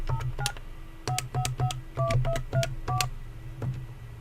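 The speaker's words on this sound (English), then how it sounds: "if I dial it again this time, it will force me to do my pin group" DTMF keypad tones from a VoIP phone being dialed, a quick run of separate beeps in short bursts with brief pauses between them, over a steady low hum.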